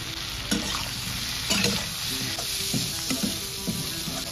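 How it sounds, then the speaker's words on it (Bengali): Mushrooms seasoned with salt, turmeric and Kashmiri red chilli powder fry in oil in a pan, a constant loud sizzle broken by regular scraping knocks of a spoon stirring, with no talk. "মাশরুমে দেবো পরিমাণ মতন লবণ আর দেবো সামান্য হলুদ গুঁড়ো আর একটু কাশ্মীরি লাল লঙ্কা গুঁড়ো দিয়ে মাশরুমগুলো খুব ভালো করে ভেজে তারপর তুলে নিতে হবে।"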